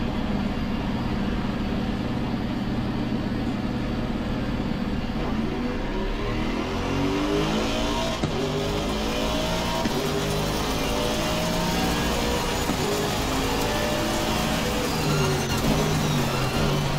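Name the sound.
GT3 race cars driving in a racing video game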